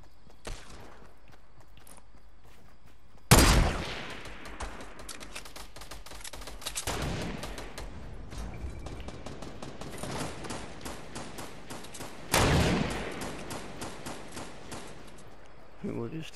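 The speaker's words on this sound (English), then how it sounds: "There's shooting going on, but I don't see any people." Gunfire in a Fortnite 20 vs 20 match: a few sharp, loud shots ring out at intervals, each followed by a stretch of lighter rapid crackling and clatter at moderate distance.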